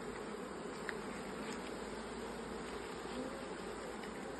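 A wasp buzzes near a beehive on a tree, its steady insect drone carrying on continuously and fairly faint against a quiet outdoor backdrop.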